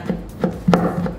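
A knife slicing thin pieces of shrimp paste (terasi) for sambal kecombrang and sambal matah: four soft, close chopping taps on a board, spaced unevenly, with no talking.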